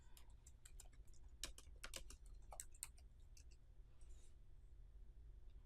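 Someone types a short comment on a computer keyboard, a quiet run of irregular key clicks with small pauses over a low steady hum, and nobody speaks.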